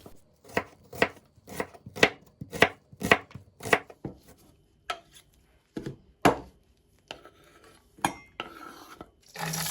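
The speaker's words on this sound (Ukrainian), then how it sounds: "Дві цибулини нарізаю на невеликі шматочки." A knife chops two onions into small pieces on a board, a steady run of sharp, close thuds that slows into scattered cuts and scraping toward the end.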